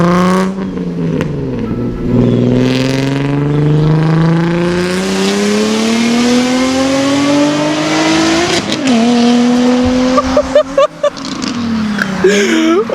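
A Nissan 370Z with a Tomei titanium exhaust revs loud and close, its pitch climbing through a long sustained pull before dropping, followed by sharp blips and crackles at the end.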